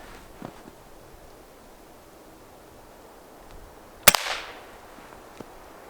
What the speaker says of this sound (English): I'm gonna shoot lower right hand corner and let's see what happens